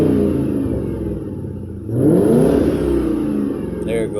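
A car engine fires up after an STP induction cleaner treatment: a low rumble, then a sudden start about halfway through that swells into a loud, close revving roar before settling to a steady idle.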